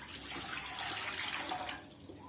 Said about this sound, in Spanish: los vamos a pasar por el chorro del agua porque así es más fácil retirarles todas las semillas